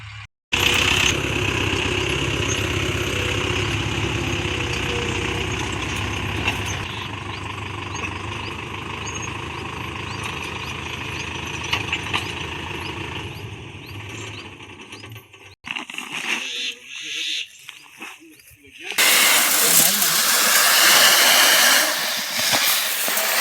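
A loud tractor engine runs steadily nearby for a long stretch while sowing wheat, rumbling and droning, then cuts out into choppy noise before a harsh hiss returns.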